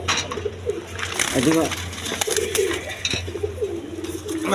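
Orange chila pigeons, a pair of male and female, coo in low repeated bursts close by, with a steady hum and background noise underneath.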